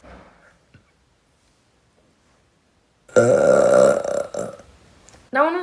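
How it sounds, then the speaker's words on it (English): A woman lets out a long, loud, breathy burp close up after a stretch of near silence, followed by a second short burst at the end. "I'm gonna give you another one."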